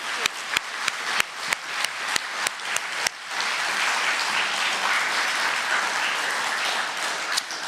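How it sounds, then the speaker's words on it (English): Audience at the Beatty Lecture applauding the lecturers: a few separate claps at first, then swelling into full, sustained applause from the whole hall. "please join me in giving one last round of applause to our Beatty lecturers tonight"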